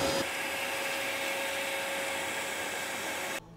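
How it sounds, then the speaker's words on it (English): A Titan TTB775VAC 1400W 20-litre wet and dry vacuum cleaner runs with a steady, loud, close motor whine that holds level for over three seconds and then cuts off sharply. "So I'm going to use my hoover."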